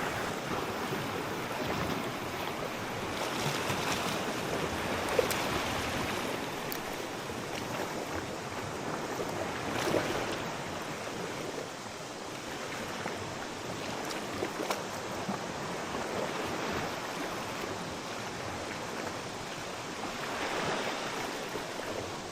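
Strong waves surge and crash continuously, a dense wash of water noise with repeated swells, mixed with wind buffeting.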